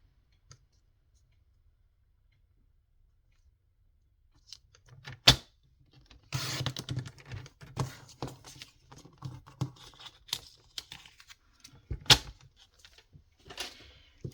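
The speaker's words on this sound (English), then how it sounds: "I'm going to cut that in half" Craft paper being cut in half, heard as a few sharp snips and soft rustling clicks up close, sparse and quiet after a silent start, with no talk.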